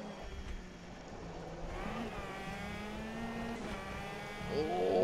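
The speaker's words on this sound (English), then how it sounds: "Full on the rev limiter." A race car engine at Cadwell Park holds a steady, sustained high whine pinned near the rev limiter, heard from onboard with rising harmonics and a louder surge at the end.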